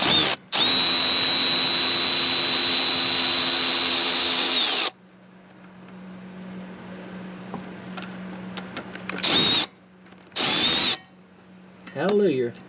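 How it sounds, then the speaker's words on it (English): An electric ratchet works loose a generator coolant hose fitting on a 1988 Bluebird Wanderlodge FC35, one long loud close whirring run followed by quieter clicks and three short bursts, with someone speaking briefly between them. "I might be able to see if I can use this ratchet, this electric ratchet on there."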